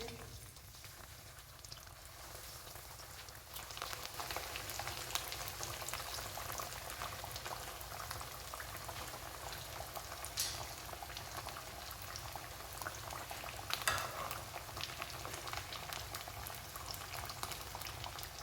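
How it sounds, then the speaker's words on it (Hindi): Fish frying in hot cooking oil over medium-low heat, a steady, faint bubbling sizzle that runs unbroken throughout with a few small pops and no voices. "ऑयल हमारा गर्म हो चुका है। अब हम इसमें फ्राई करने लगे हैं फ़िश।"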